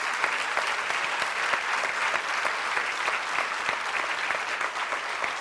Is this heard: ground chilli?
no